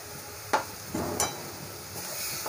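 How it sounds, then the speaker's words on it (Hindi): Roasted semolina is stirred into melted sugar in a pan for coconut and semolina laddoos. A soft hiss runs under a few distinct scrapes and knocks of the spoon against the pan. "तो अब हम इसमें सूजी को ऐड करेंगे"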